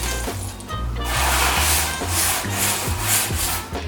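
Cooled homemade granola on a baking sheet is stirred and shaken, giving loud, close, dry scraping and crunching rustles in uneven sweeps.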